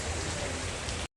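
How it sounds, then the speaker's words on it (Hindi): Steady rain pouring down in an outdoor park, a dense even hiss of drops on surfaces close by, loud and unbroken for about a second before cutting off abruptly. "बारिश का इंतज़ार कर रहे हैं, बारिश कब बंद होगी"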